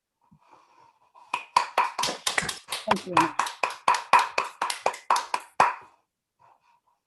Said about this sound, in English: So I propose that we just all unmute ourselves for a round of applause.